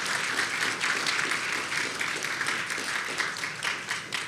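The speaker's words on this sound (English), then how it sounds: "I want to give them another round of applause for being here" A crowd applauds steadily, dense clapping filling the room at a strong, even level throughout.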